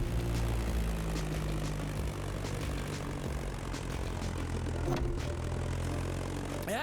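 A propeller airplane flies in the video game The Crew Motorfest, skimming close to mountains. A continuous droning engine hum holds steady and fairly loud for several seconds, with no talking.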